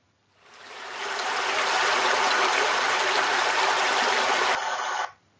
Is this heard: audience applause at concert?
no